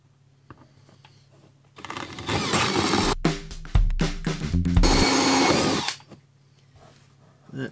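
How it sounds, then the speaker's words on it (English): A power drill whines up and grinds through material with a 1 3/4-inch hole saw for several seconds, the pitch wavering under load before stopping. "So now we take our drill with the hole saw on it."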